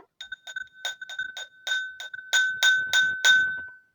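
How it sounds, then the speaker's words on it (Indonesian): A metal spoon taps a drinking glass in a quick series of bright, ringing clinks, growing louder toward the end before the ringing fades. "Ibu akan mengetuk benda ini. Ini adalah gelas dan ini adalah sendok."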